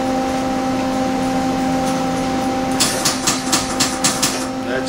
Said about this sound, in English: Now, I'll just put a couple light tacks in there.